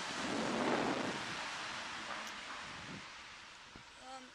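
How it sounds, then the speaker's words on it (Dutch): Light outdoor rain falling on a wet day of shopping in Maastricht: a steady, soft, broadband patter and hiss, fairly faint, with wind and low rumbles underneath and a voice present. "En het regent, ik ben heel nat."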